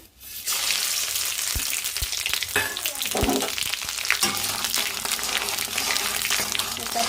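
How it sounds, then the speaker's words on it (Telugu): Green chillies and tomatoes sizzle and fry in hot oil in a pan for tempering, a steady close crackle with occasional clinks of a spoon stirring against the pan. "పచ్చిమిరపకాయలు టమాటాలు ఇంకా అవే వేయించిన బాండీలోనే ఇంకా ఆయిల్ పోసుకొని ఇంకా తాలింపు వేసుకున్నామండి"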